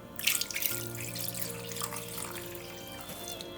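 Malt water (yeotgireum) pours into a pot of sweet potato and glutinous rice for homemade syrup, a brief close splashing gush that settles into a softer trickle.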